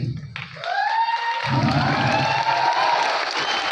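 A large stadium audience in Delhi breaks into applause and cheering, the dense clapping rising after a brief dip and staying loud and sustained, with a voice over it.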